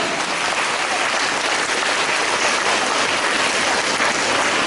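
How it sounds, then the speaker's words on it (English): Loud, dense applause fills a school investiture ceremony hall as guests are welcomed, an unbroken roar of many hands clapping close and steady throughout. "we extend a very warm welcome to our school with a thunderous round of applause"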